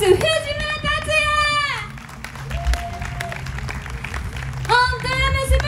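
A concert crowd applauds the bassist as he is introduced at a live show. Moderate clapping runs through the middle, framed by a drawn-out voice at the beginning and end.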